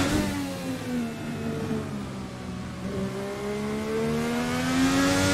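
An IndyCar race car at Road America pulls out of the pit lane on alternate tyres, its engine whining steadily and rising in pitch as it accelerates, loud and continuous throughout.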